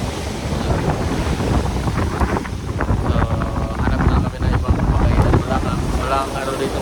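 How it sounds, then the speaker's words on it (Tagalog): Strong wind buffets the microphone on a boat trip off Bohol, a loud, rough roar mixed with waves and the hull's motion, with faint voices now and then beneath it. "malakas ang hangin"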